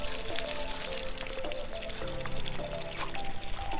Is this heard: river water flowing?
yes